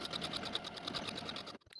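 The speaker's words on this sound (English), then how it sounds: "I'm sewing my buttonholes to the right button band." A domestic sewing machine stitches buttonholes along the button band of a linen pleated dress, running in a steady fast whir of needle strokes before stopping abruptly, followed by a few faint clicks.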